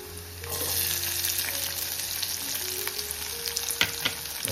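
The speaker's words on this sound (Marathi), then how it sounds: "चला आता कांदा टाकून घेऊ." Onion sizzles in hot oil in a pan, a steady close frying hiss broken by stirring scrapes and a sharp clatter near the end, with no voices.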